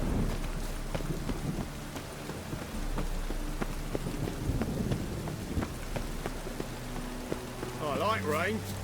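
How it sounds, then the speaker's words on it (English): Steady rain falling in The Witcher 3 around Novigrad, a constant hiss with scattered drips and soft low rumbles, with a voice talking over it near the end. "I like rain."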